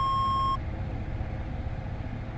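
A single clear electronic answering-machine beep from a phone in a Five Nights at Freddy's parody game, sounding briefly at the start and then cutting off to a low hum.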